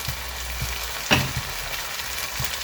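Cooled boiled basmati rice tipped into a hot pan for egg fried rice, a soft steady sizzle broken by one sharp clatter of the rice landing, then quiet crackling.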